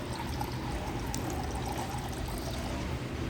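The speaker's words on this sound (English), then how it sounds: "and then we're just going to top with filtered water." Filtered water is poured into a jar of cucumbers in brine for half-sour quick pickles, a steady, close splashing pour that runs continuously.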